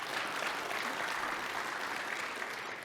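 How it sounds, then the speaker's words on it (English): Audience at a mortgage industry live event breaks into steady, dense applause that fills the room evenly for a few seconds without a break. "Round of applause to that."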